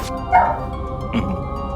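A dog gives two short, close barks or yips with a brief gap between them, then falls quiet.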